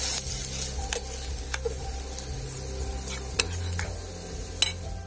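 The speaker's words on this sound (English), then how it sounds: "You can hear the sizzles of the potatoes." Potatoes seasoned with salt and paprika sizzle steadily in a pan, with a continuous close frying hiss broken by occasional light clicks and taps of stirring.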